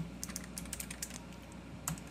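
Keys tapped on a computer keyboard while entering a shell command for a GPU mining setup, a dozen or so light clicks in uneven bursts, close and fairly quiet, with no talking.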